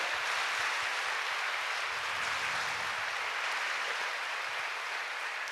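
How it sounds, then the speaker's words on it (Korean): A church congregation claps in praise during a Sunday sermon, a dense, even wash of applause that carries unbroken from start to finish with no voices over it. "우리 하나님께 영광의 박수 올려드립니다."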